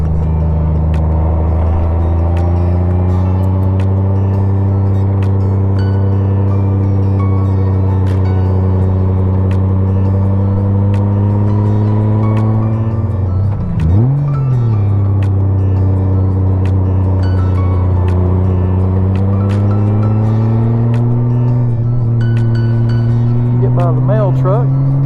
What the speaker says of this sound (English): We're rolling up this mountain.